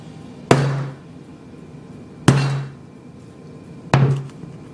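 The back of a hammer strikes an iPhone 6 three times in slow succession, each a loud, close, hard thunk with a short ringing decay and quiet gaps between.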